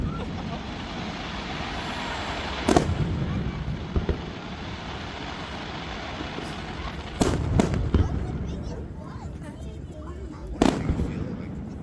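Fireworks bursting over a large West Coast bridge on the 4th of July 2024, heard as several sharp booms spaced a few seconds apart over a steady crowd murmur and background rumble.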